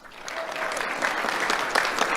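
Brief, bright applause from an awards-ceremony audience, swelling quickly and holding steady for a couple of seconds.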